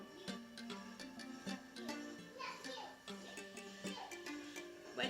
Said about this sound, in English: What you hear is the kids in the background.